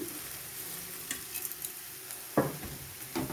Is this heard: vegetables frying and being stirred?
yes